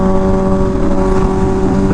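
An MV Agusta Rush motorcycle runs loud and close, its engine a steady humming drone mixed with wind rush as it carries speed.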